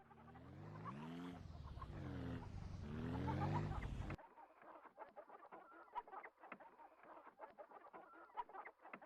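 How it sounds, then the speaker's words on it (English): Chickens clucking and squawking nearby, first in a loud, drawn-out run of calls, then in a scattered series of shorter, quieter clucks. "why'd you get chickens?"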